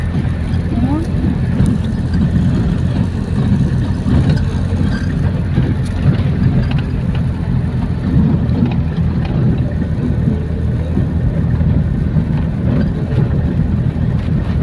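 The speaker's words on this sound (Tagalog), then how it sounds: "Talagang kasi manghihina ang makina." An engine labours uphill with the air conditioning running, a constant low rumbling drone that stays steady throughout, with people talking over it.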